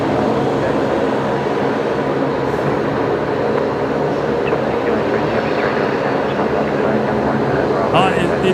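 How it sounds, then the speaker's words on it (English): A Link Airways Saab turboprop arrives at Brisbane Airport, its engines a steady, broad roar that holds for the whole stretch, with a faint voice or two in the background. "that Link Airways Saab coming in"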